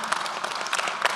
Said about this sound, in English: could you all give them a round of applause, please?